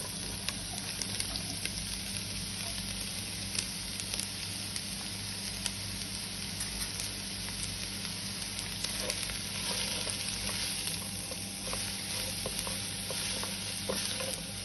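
Cabbage and other vegetables sautéing in about a tablespoon of oil over a high flame, a steady, dense sizzle running throughout with scattered crackles and light stirring, close and alone.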